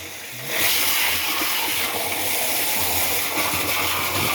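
Clean water from a hose rushes steadily into a backyard pond filter, a continuous loud gushing and splashing that keeps up without a break.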